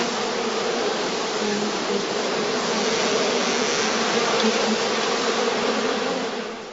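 A dense, steady buzzing of many bees swarms around a beehive, close and continuous with no pauses, with a faint hum underneath and no voices.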